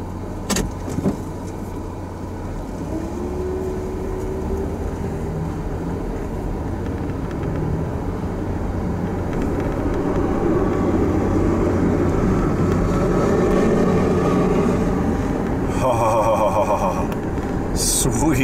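A 2011 Buick Enclave on a test drive with the windows open, giving a steady loud road and engine rumble with wind noise. A few brief clicks and a short tonal chime come near the end.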